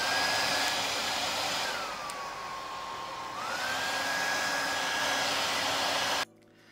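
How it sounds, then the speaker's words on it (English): A hair dryer blowing on a ripped down jacket, a steady close whine whose pitch dips for a moment as the airflow is muffled against the fabric, then rises again before it cuts off abruptly, with no talk. "Now dry the ripped side."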